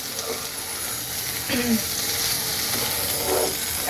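Spices and masala sizzling in a pan while being sautéed for a Bengali fish curry with green peas, a steady broadband hiss with a few scraping stirs, close and moderately loud, no talking.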